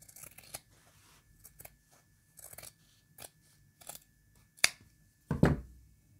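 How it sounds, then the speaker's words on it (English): Scissors snipping through a piece of fabric for a 1:12 scale miniature hotel bed: quiet, close, irregular crisp cuts and rustles, ending in a couple of louder snips and a thump. "let's pre-cut out that piece of fabric as well"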